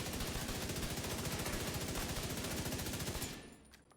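M1A rifle gunfire in the video game The Division 2: a rapid, steady stream of loud repeated shots that stops abruptly near the end, leaving a faint tail.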